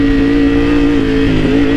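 A Triumph Tiger 900 motorcycle, ridden without a license plate, revs hard and climbs in pitch, dips briefly at a gear change, then keeps pulling, loud and close.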